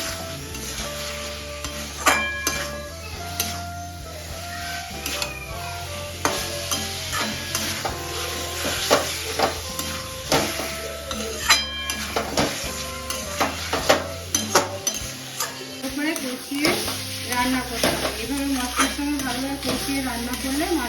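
Fried fish being stirred into a cooked-down masala in a pan, kosha-style, with steady sizzling and frying and repeated scraping and clinking of a spoon against the pot, continuous throughout.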